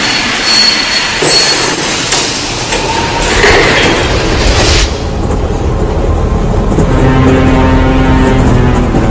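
A train at Frankfurt railway station in 1943 rolls along with loud, steady rumbling and rattling wheels, brief squeals and clanks early on, then a continuous mechanical drone.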